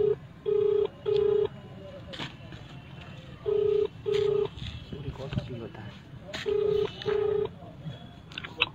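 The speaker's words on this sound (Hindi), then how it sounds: "डीएसपी साहब को फोन लगा रहे हैं" An outgoing phone call rings back in paired tones, three pairs spaced a few seconds apart, heard moderately close over low room noise with faint background voices.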